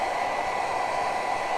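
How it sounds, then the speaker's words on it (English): A hair blow dryer runs steadily at close range, drying a freshly coated craft jar with one continuous, even whoosh of air and no pauses. "So let me get the blow dryer on this."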